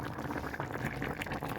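Zucchini pieces going into a pot of simmering Iraqi lentil soup with ribs, set against a steady bubbling, liquid churn that holds at an even, close level throughout.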